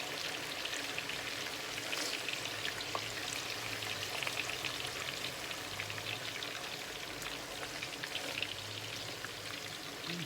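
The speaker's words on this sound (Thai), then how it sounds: "ทอดเสร็จแล้วนะคะ" Chicken satay skewers frying in hot oil, a steady dense crackle and hiss that runs unbroken and fairly close, with scattered sharper pops and no voices.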